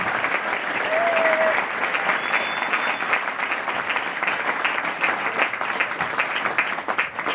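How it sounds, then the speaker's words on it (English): A concert audience at a folk music show gives sustained, dense applause that holds steady throughout, many hands clapping together in a room, with a brief whistle near the start. "a big round of applause to Holmes Hook, who booked it, and Richard and all the staff here"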